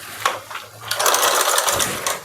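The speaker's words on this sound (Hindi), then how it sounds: "पलट के मोड़ के एक प्रेस सिलाई भी यहाँ पे लगा दूंगी।" A sewing machine stitches a blouse, its motor whirring in a steady run after a few short starts, close and fairly loud.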